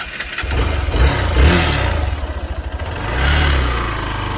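A motorcycle engine running nearby outdoors after camping at Sonapur waterfall in Meghalaya, a low, steady throb that swells and eases with gentle throttle.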